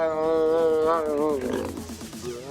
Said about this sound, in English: they kind of make like a low grumble, bit of a roaring sound